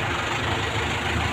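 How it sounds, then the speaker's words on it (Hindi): A Mahindra 585 tractor engine idles with a steady, even rumble that holds at a constant level throughout the short stretch, with no voices over it. "निकाल रहे हैं दूसरा ट्रैक्टर"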